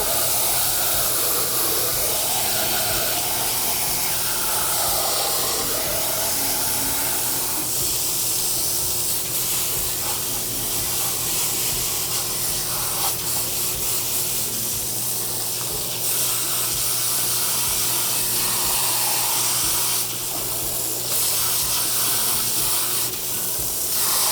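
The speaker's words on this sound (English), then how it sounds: "you just use your high pressure hose again" A high-pressure hose sprays steadily onto a filter basket at an equine wash rack, a loud, continuous hissing gush that holds without pause.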